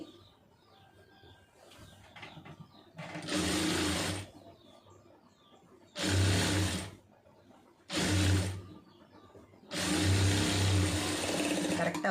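A sewing machine stitches small stitches in four short, loud bursts of rapid whirring, separated by quieter pauses with faint handling sounds.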